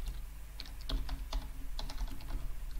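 Rapid clicks of typing on a computer keyboard that is misbehaving, keystrokes close and fairly loud in quick irregular bursts over a low steady hum, with no talking.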